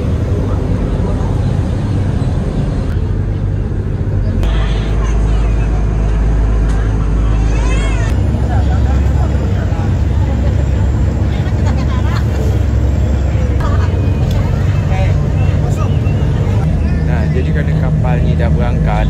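Passenger ship underway from Tanjung Pinang to Daik Lingga, its engine giving a loud, steady low rumble and constant drone throughout, with people talking over it.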